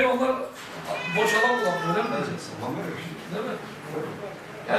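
A cat meows repeatedly and plaintively at a veterinary clinic during pet microchip registration, its cries mixed with people talking close by.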